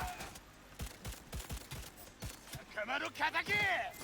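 A small gun fires in Cyberpunk 2077 as a quick series of sharp, evenly spaced shots, followed by someone talking over the shots near the end.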